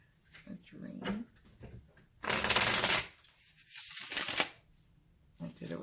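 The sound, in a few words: shuffling Lo Scarabeo Tarot of Haunted House cards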